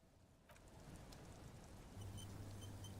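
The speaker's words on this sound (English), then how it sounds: "All around you, rain keeps falling down. On the wooden boards." Rain falls on wooden boards in a video game, a faint, soft, continuous patter that grows a little denser midway, with a low steady hum beneath it.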